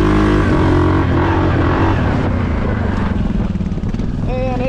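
A Suzuki KingQuad 750 ATV climbs a small hill, its engine roaring loud and close at a steady high rev, holding strong before easing slightly near the end, with a voice talking over it.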